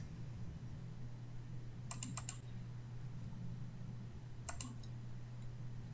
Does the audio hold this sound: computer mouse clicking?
yes